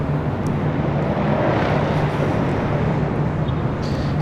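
A Delta jet climbs out of LAX after departure and banks early toward Phoenix, its engines giving a steady, broad roar that holds evenly throughout.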